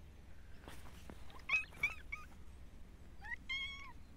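A cat meows several times, short whiny calls then a longer, higher meow near the end, close by against quiet room noise in an old flour mill.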